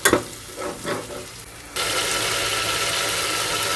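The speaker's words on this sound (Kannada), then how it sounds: "ಎಲ್ಲನೂ ಎಣ್ಣೆಯಲ್ಲಿ ಚೆನ್ನಾಗಿ ನೀಟಾಗಿ ಫ್ರೈ ಆಗಿ ಎಲ್ಲನೂ ಬೆಂದೈತಿ" Onion and tomato fry in hot oil with a loud, steady sizzle that swells sharply partway through. A few stirring scrapes come before it, and no one speaks.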